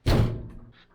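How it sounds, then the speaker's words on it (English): The door of a Whirlpool gas clothes dryer that has no heat is pushed shut with a single loud, close thunk, followed by a short fading rattle and a faint click. "Shut the door."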